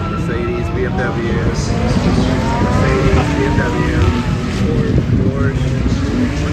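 GT race cars of a Pro-Am field, Mercedes, BMW, Porsche, McLaren and Lamborghini among them, run a startup lap in Birmingham, a continuous loud engine roar and passing drone filling the whole stretch under crowd chatter.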